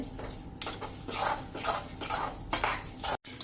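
Jaggery being stirred into a flour mixture for Gujarati sukhdi, a utensil scraping steadily around a pan in repeated close strokes with faint background noise and no talking.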